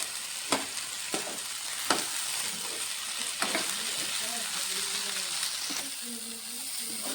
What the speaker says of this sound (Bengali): দিয়ে দেবো সেদ্ধ করে রাখা মটর। মটরের সঙ্গে একটু কষাবো।